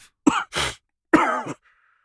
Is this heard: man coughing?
yes